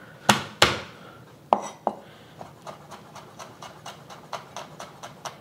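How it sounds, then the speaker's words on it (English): A knife chopping two garlic cloves on a board: a few hard, loud cuts with gaps, then a quicker, steady run of lighter taps, close up with no talking. "I'm just gonna chop it up."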